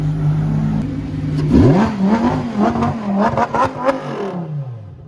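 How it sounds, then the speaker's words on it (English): A Lamborghini Huracán Evo STO in motion revs loudly nearby, its engine pitch sweeping up and then holding through a series of sharp crackles before dying away. "You're seeing the Lambo in motion."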